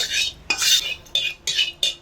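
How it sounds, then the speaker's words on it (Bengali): A spoon stirs a little mustard oil in a kadai: four or five short, bright scraping strokes in a steady rhythm, close and fairly loud, with no talking. "তেল একটু নাড়াচাড়া করে নেব কড়াইতে"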